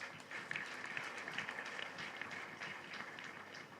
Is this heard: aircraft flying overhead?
no